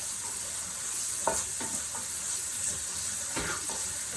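Garlic sizzles while frying in a pan, a continuous hiss at moderate level broken by a few light scrapes and taps of a utensil against the pan.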